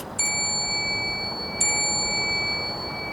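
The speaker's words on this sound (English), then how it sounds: "That was 2 bells." A small bell rung from a bench gives two bright dings about a second and a half apart, each ringing on with a long sustained tone over steady loud background hiss.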